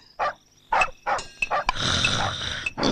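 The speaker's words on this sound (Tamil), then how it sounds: "என்னப்பா நாய் கத்துது?" A dog barks several times in quick succession, close by, followed by a burst of noisy commotion and another bark.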